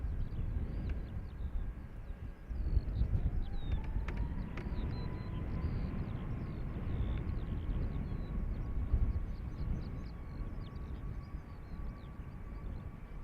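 At Dublin Airport a Ryanair airliner bound for Edinburgh takes off, its jet engines a distant, faint roar with a rising whine, heard under steady wind noise and a broad low rumble throughout.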